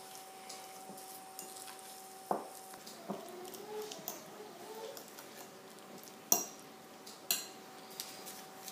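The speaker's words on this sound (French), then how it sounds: "je vais mélanger tous les ingrédients en les écrasant" Metal utensil scraping and clinking against a bowl while mashing and mixing three cheeses with herbes de Provence, soft intermittent taps and a few sharper knocks spaced irregularly, fairly quiet.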